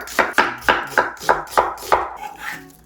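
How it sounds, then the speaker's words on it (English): Onion halves sliced with a knife on a cutting board, about seven crisp, evenly spaced chops at a steady pace, close and clear, followed by a softer scrape at the end. "let's just cut the onions. So just cut in half and slice them"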